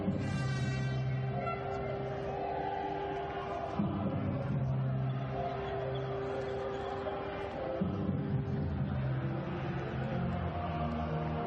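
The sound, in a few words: stadium crowd at Stadio Enzo Ricci football match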